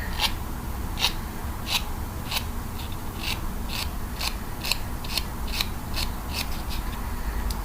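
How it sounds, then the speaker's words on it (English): Small clippers trimming back fingernail cuticles, a regular series of sharp snips about every half second over a low steady rubbing hiss, close and intimate. "what I'm doing is trimming back my cuticles"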